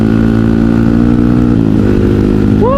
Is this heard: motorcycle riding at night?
yes